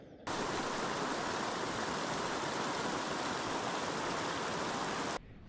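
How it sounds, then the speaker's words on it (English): A river near Laguna Jahuacocha in the Peruvian Andes flowing heavily. It makes a steady, dense rushing roar that starts and stops abruptly, with no voices. "the water flow is really pretty heavy here"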